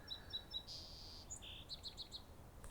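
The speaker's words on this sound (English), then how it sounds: "Gotta find out what species of bird makes that call." Repeated high chirping bird calls heard in a park with Arizona ash trees, short whistled notes followed by a longer tone and a quick series of chirps, fairly faint over quiet outdoor background.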